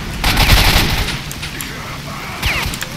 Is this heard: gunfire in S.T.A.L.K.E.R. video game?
yes